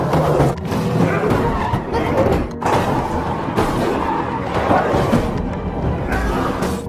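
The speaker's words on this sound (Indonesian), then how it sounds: "tiba-tiba para berandalan mengejar dan terjadi aksi kebut-kebutan yang seru" Cars tear along in a high-speed chase through a zombie-overrun Korean peninsula, tires skidding amid a dense, continuous roar of engines and scraping rubber that stays loud throughout with a few brief dips and thumps.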